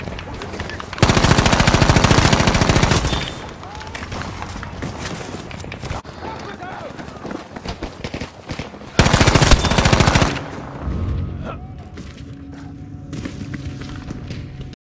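M2 Carbine fire in Battlefield 5 comes in two loud, close sustained bursts of rapid shots. Quieter battlefield sounds and scattered thumps fill the gaps between them.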